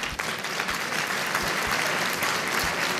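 An audience at a team competition event claps in unison, producing steady, dense applause that continues at an even level throughout.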